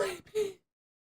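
A person imitates a cat with a short, breathy two-part 'meow', spoken close and quietly. The sound fades out after about half a second.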